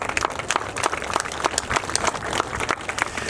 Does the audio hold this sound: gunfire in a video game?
no